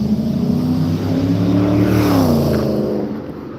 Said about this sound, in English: that car sounds like a truck